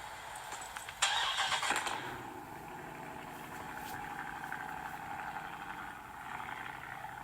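A 2020 Dodge Scat Pack idles outdoors on a cold morning, with a brief louder rev at the start that settles into a steady low engine rumble throughout.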